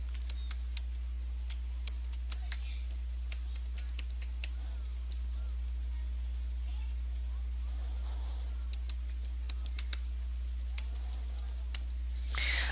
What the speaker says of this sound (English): then they want you to type your password